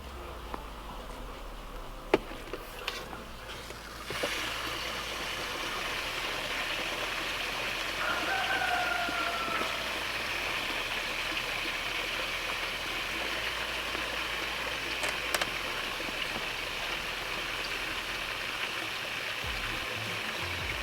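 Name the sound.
water filling a strawberry planting container through a hole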